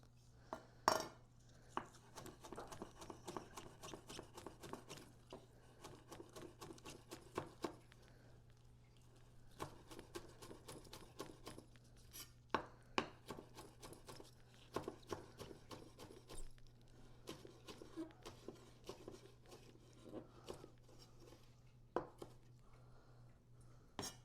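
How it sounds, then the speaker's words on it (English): A knife chopping scallion on a cutting board, quick irregular taps in bursts with faint kitchen clatter, close and fairly quiet, no talking. "I'll just chop up this scallion in the meantime"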